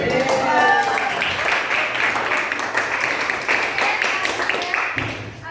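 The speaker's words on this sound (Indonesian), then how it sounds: "Tepuk tangan buat temannya." A small school class claps steadily for several seconds for a classmate, a lively patter of hands at close range, with voices murmuring beneath.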